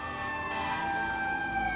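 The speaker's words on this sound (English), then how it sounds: "It's just a couple of sirens." Sirens from a fire engine wail steadily, their sustained tones drifting and overlapping at moderate loudness for a couple of seconds without talk.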